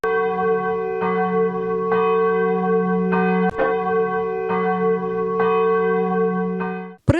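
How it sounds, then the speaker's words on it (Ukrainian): A church bell rings steadily as a chemical danger warning, about one strike per second, its long ringing tones overlapping and sustaining, then it stops abruptly at the end. "звук церковних дзвонів сповіщатиме про хімічну небезпеку"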